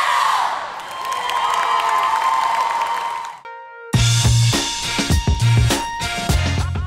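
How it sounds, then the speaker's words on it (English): More than 300 cheerleaders at a national championship perform a rallying cheer: loud crowd cheering and shouting, then a break into rhythmic music with stomps and chanting, all close and energetic. "more than 300 cheerleaders from across the U.S. participated in a rallying cheer to raise awareness for hunger"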